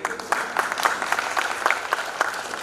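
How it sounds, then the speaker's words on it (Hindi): An audience at a kavi sammelan, a Hindi-Urdu poetry gathering, claps in a brisk scattered round of applause with sharp overlapping hand claps, fairly close and steady, with no clear talking. "आप जोरदार ताली बजाइए मैडम के"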